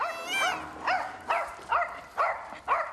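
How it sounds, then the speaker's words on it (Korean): A small dog barks repeatedly outdoors on a walk, a steady run of five or six sharp, high yips spaced about half a second apart, fairly close and clear. "그런데 한성이가 짖을 때마다 심기가 영 불편해 보이는 뭉치"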